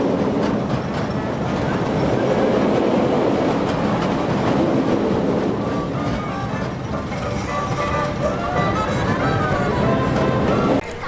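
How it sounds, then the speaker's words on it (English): Holiday train ride circling an amusement park, a steady rolling rumble with clickety-clack of wheels on track, heard fairly close, with people talking in the background throughout. "they got the holiday train going"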